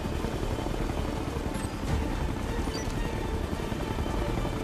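A helicopter in the video game Ghost Recon Future Soldier gives off a steady, loud rotor drone throughout, with no talk over it.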